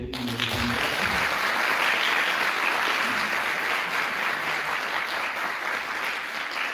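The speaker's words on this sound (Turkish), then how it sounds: "Ben buradan büyük bir alkış istiyorum" An audience at a Yunus Emre poetry evening breaks into sustained applause, a dense even wash of many hands clapping at once, full and steady throughout.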